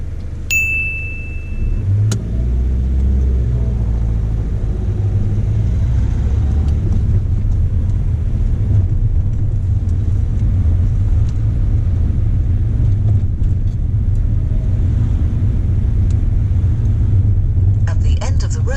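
A car pulls away on a driving test, a low steady engine rumble and road noise building inside the cabin, with a chime early on and people talking over it.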